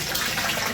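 Water gushing from a household tap as containers are filled, a steady close rushing stream with no voices.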